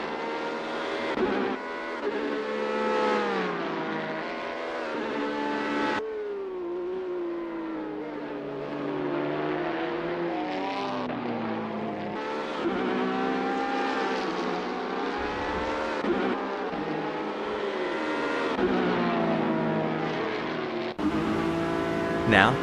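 An SMP Racing BR03 prototype race car in Assetto Corsa, driven at Jerez, screams through continuous engine notes that rise and fall with gear changes and revving, with a commentator talking over it throughout.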